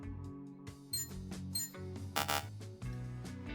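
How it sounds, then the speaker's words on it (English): Repeated electronic beeps from a multimeter in Electrician Simulator, tonal chirps ringing over steady game music at moderate loudness. "You are beeping,"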